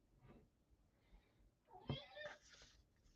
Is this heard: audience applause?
no